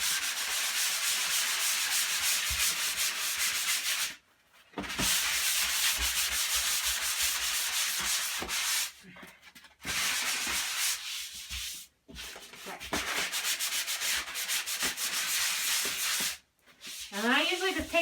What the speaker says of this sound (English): Try not to oversand your drywall.